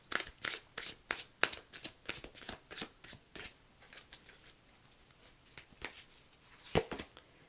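Tarot cards shuffled from a deck, a close, quiet run of rapid papery riffles and taps in an irregular patter with brief pauses, no talking.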